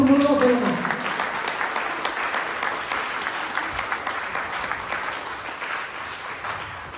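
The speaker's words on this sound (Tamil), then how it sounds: "கைத்தட்டல் மூலமாக சொல்லுங்க." Audience applause at a Margazhi season choir event, loud clapping that starts with a voice over it at the opening, then continues alone and slowly fades.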